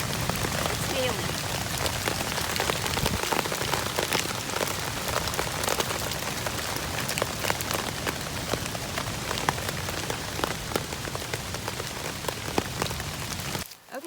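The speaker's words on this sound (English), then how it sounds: "It's hailing." Hail pelting down along the Ozark Highlands Trail in Arkansas, a dense, steady hiss of countless small impacts that stays close and loud throughout before stopping abruptly at the end.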